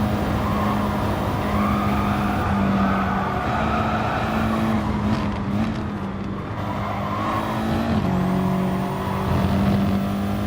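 Race car engine droning steadily through a lap of Blue Moon Raceway in a racing video game, with shifting pitch from gear changes and brief tire skids, loud and continuous with no talking.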